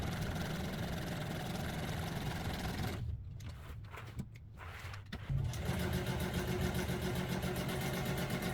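Sewing machine running a straight line of stitching on MGB seat upholstery, a close, steady motor-and-needle hum that stops for a couple of seconds midway, then resumes, with no voices.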